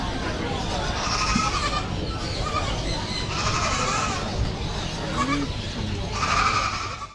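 Goats bleating amid the bustle of a large exotic animal market in Thailand, their cries rising in bursts over a constant crowd murmur and people talking nearby.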